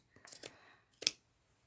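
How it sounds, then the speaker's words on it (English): Two crisp snips of scissors cutting through a vintage doily, close and fairly quiet, with a short pause between the cuts and near silence around them. "So I'm cutting part of it off."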